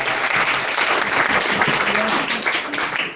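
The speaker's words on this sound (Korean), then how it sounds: "박수로 마무리하겠습니다" Audience clapping to close a lecture session at a Korean university, a brief burst of dense applause with some murmured voices underneath.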